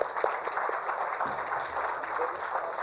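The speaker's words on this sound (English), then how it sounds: "With a round of applause, of course," Audience applauding at the India Sports Awards, a steady wash of many hands clapping at moderate level that carries through without pause, with a low rumble beneath.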